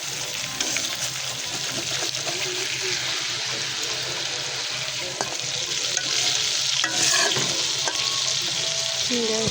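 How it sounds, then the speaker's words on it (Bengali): Shrimp fry in a pan in a home kitchen, with loud, dense sizzling and bubbling close up, stirring scrapes and clatter, and a brief surge of louder spitting near the end. "দেখেন, মাছ বাজে দিচ্ছি"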